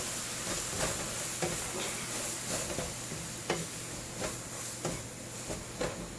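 Milk sizzling in a hot pan over medium heat while it is stirred for chocolate barfi, a steady hiss with a soft hum underneath and repeated faint scraping strokes of the spoon at an even pace.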